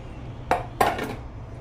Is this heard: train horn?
no